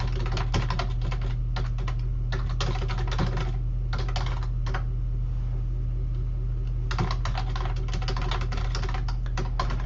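Steady bursts of typing on a computer keyboard while writing Visual Basic code, fast clattering keystrokes in runs separated by short pauses, over a constant low hum.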